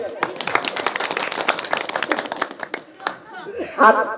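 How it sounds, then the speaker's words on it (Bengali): Scattered clapping from an audience at a political party joining event, sharp irregular claps mixed with chatter and some laughter, ending with a brief raised voice. "যা আরেকটা হাততালি দেন"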